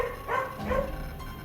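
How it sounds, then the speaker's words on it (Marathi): Dogs barking at a deserted railway station platform at night, a couple of short bark bursts heard at moderate distance over a steady low background hum. "प्लॅटफॉर्मवर फक्त 1-2 कुत्री इकडे तिकडे धावत होती आणि मोठमोठ्याने भुंकत होती"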